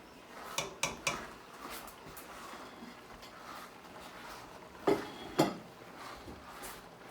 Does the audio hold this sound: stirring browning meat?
yes